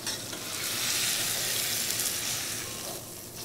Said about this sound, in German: Wichtig ist, dass es richtig anbraten ist, damit da sich die Röstaromen entwickeln können.